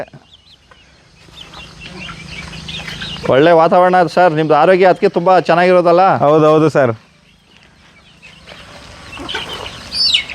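A native country rooster crows loud and close for a few seconds among farm chickens, with men chatting before and after the crow.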